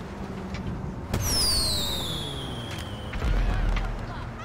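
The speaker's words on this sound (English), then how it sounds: "Yo, it's fireworks." Firework launches from a firework launcher in a video game whistle upward and burst with sharp cracks, followed by rising shrieks and another pop, sounding like synthetic game effects.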